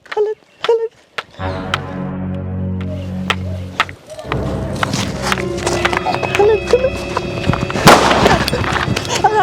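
A loud sharp Diwali firecracker bomb bang in a village, followed by crackling bursts and rumbling noise, with voices talking nearby.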